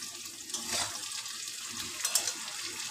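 Potatoes and onions frying in a pan, a soft steady sizzle with a few brief stirring clatters, heard alone at low volume.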